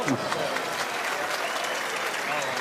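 A crowd at a pétanque match breaks into steady applause after a shot, dense clapping that fills the whole moment at a moderate distance, with voices mixed in.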